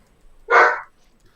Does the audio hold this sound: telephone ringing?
no